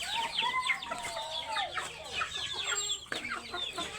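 Several chickens cluck and squawk close by on a farm, a busy overlapping chatter of rising and falling calls with no pause, moderately loud in the open air.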